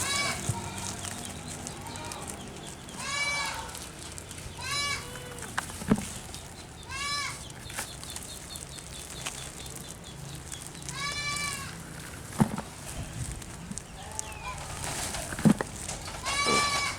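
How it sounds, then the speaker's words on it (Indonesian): Goats being offered wet fermented feed bleat repeatedly from close by, several wavering calls spread across the stretch over steady farmyard background noise, with scattered knocks and a voice talking intermittently. "Kita akan melihat apakah kambing suka dengan fermentasi seperti ini"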